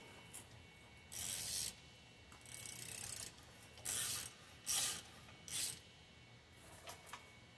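A ratchet spins and tightens a brake castle nut in short bursts of rapid clicking, about six separate runs with quiet pauses between them, close and crisp.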